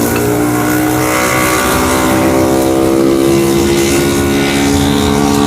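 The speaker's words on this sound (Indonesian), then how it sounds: "Berisik ya, dengan suara motor itu ciri khasnya makan di pinggir jalan itu." Motorcycles on the street beside a roadside soto stall, a loud, continuous engine drone with steady humming tones that rise and fall slightly as the traffic passes close by, with no talking.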